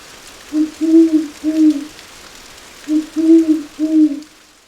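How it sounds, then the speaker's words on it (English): An owl hoots from a big blue mahoe tree beside a barn in the Blue Mountains of Jamaica, two clear groups of three to four low, steady hoots separated by a pause, moderately close and alone over quiet background. "Hoots from an owl in the big blue maho tree by the barn"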